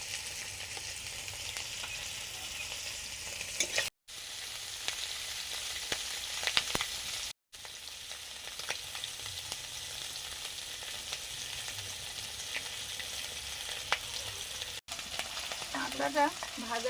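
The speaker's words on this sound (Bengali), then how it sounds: "কাঁকড়াটা ভাজা হয়ে এসছে" Crab frying in spiced oil in a pan, a loud continuous sizzle and crackle with occasional stirring scrapes, briefly cut off twice.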